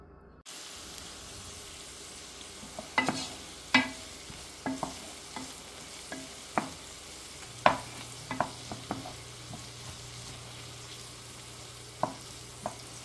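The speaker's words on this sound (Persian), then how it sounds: "بعدش اونو میریزیم تو قابلمه و با روغن سرخش میکنیم" Chopped medium onion frying in oil in a pot for saffron-barberry rice with chicken: a low steady sizzle broken by repeated sharp scraping and clacking strokes as the onions are stirred, close and alone.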